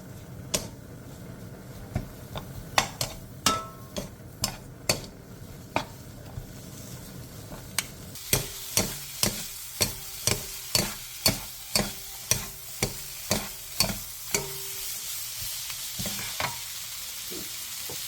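Radish stir-frying in oil with minced garlic, ginger and sugar over medium-low heat, a soft sizzle under a regular series of sharp taps and scrapes from a utensil against the pan.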